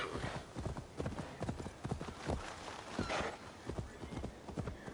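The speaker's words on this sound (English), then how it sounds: "Chamar o cavalo." Horse hooves clop in a quick, rhythmic gallop in the video game Assassin's Creed Valhalla, repeated thuds close and clear with a brief whinny-like touch, no talking.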